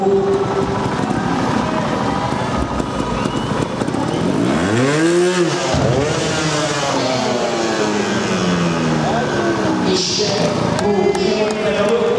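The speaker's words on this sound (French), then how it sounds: "Écoutez le bruit de la moto." A motorcycle engine revs loudly and close by, its pitch sweeping up and down in repeated surges over a continuous roar.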